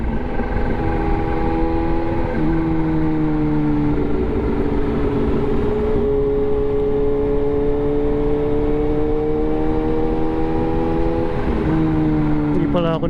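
Kawasaki Z H2 sports bike engine on the move, a loud continuous drone with pitch rising and falling through gear changes, accompanied by wind noise and a voice talking over it.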